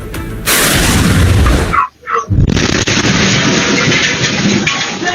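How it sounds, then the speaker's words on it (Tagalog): A crowded narrow alley in Navotas City, caught on CCTV as an LPG gas stove explodes. A loud, harsh roar cuts to a brief near-silence, then a sustained blast of noise and rumble follows. "Anim na katao naman pong nasugatan sa pagsabog ng LPG kaninang umaga sa Navotas City."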